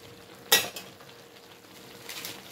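A spatula scrapes and stirs pinakbet vegetables frying in a pan, with one sharp clatter near the start over a steady soft sizzle, and a second scraping swell near the end.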